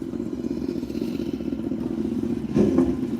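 A motorcycle passes on a city street during night driving in the Phoenix area, a steady engine drone that swells louder near the end as it comes close.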